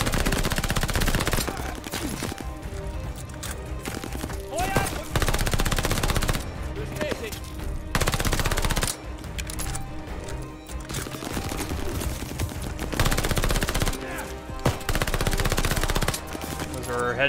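Rapid bursts of automatic gunfire and single shots fill the Call of Duty Vanguard game scene, loud and nearly continuous with short pauses between volleys, while voices talk faintly underneath.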